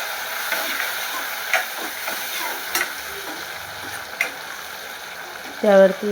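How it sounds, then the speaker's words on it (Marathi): Chopped tomato tipped onto onions frying in a pan for a chavli dal, a soft continuous sizzle with clinks of stirring, while someone talks over it. "कांदा छान परतला, आपण त्यामध्ये टाकूया एक टोमॅटो छान मऊसूद होऊ दे"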